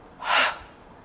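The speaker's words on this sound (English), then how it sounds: "Inhale, up. And make the sound ha." A single breathy "ha" exhalation during a yoga-style arm-circling exercise, close and fairly soft, rising and fading within about half a second.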